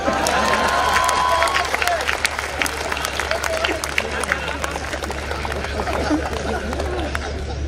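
Large crowd at a live satire show, applause and cheering mixed with busy crowd noise throughout, loud and continuous.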